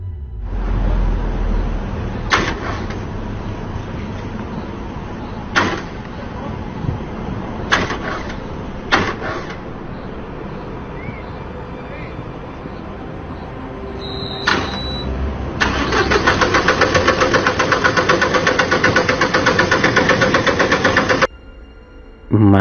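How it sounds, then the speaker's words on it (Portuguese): A Line 15 city bus parked with no one at the wheel clatters with a few sharp knocks and door-like thumps, then its engine starts by itself and settles into a loud, steady idle rumble before cutting off. "um dos ônibus da linha 15 simplesmente começou a ligar sozinho"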